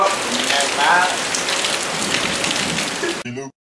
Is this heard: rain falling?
yes